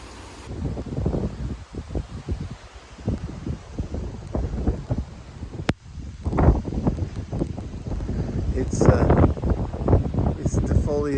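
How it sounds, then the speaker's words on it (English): Gusty wind from Tropical Storm Hilary buffets the microphone and rustles pine trees and bonsai outdoors, a rough continuous roar that grows stronger toward the end, while someone talks over it. "it's raining pretty good. It's blowing, the wind is blowing pretty good"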